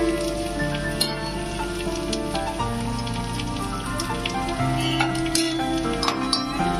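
Onion and green chilli pieces sizzling in mustard oil in a pan, a steady crackling fry with scattered pops and faint clinks of a utensil, no talk.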